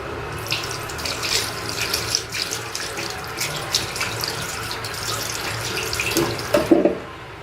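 Tap water runs steadily into a sink while paint brushes are rinsed, splashing and spattering with irregular bursts as the brushes are worked under the stream, close and fairly loud with no talk.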